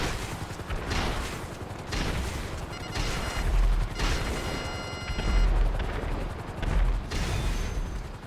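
Annihilator helicopter in GTA 5 Online firing on a target, a dense, continuous roar of rapid gunfire and rotor noise swelling in repeated bursts, loud and close, with no talk.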